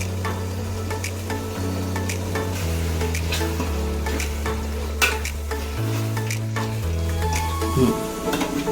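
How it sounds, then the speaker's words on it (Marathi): Coriander leaves frying in oil in a pot of paneer mushroom vegetable biryani, a soft continuous sizzle under scraping stir strokes and light clinks of a utensil against the pan, close and fairly quiet. "थोडी कोथिंबीर टाकून घ्यायची तेलावरती फ्राय व्हायला"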